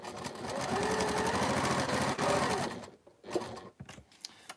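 Sewing machine stitching down a seam line on a Christmas wall hanging quilt, running steadily and fairly close for about three seconds, then stopping into short bursts and pauses.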